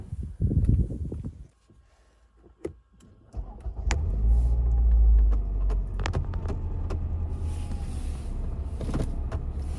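A Ford Mondeo 2.3 pulls away on a drive, its engine rumble rising and holding steady inside the cabin after a few brief knocks and movements at the start.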